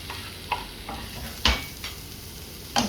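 Chopped onion and three colours of capsicum sautéing in a teaspoon of butter for bread pizza: a soft steady sizzle broken by a few sharp spoon scrapes and clinks against the pan, close and fairly quiet, no talking.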